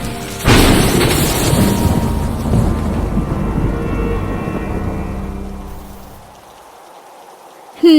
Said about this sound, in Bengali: বাইরে খুব জোরে ঝড় বৃষ্টি হচ্ছে